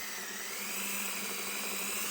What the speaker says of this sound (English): I'm trying to hold it and drill at the same time